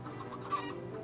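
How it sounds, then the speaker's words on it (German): A chicken in the video game Minecraft gives a short, close cluck, clear over a low, steady background hum. "Und jetzt steckt hier das Huhn fest"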